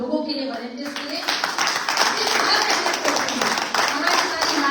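Applause from an ashram gathering for the management and volunteers, a dense wash of many hands clapping that builds after a moment and holds steady, with talk mixed in over it.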